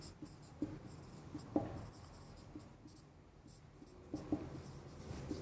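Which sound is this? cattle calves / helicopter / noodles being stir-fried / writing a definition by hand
writing a definition by hand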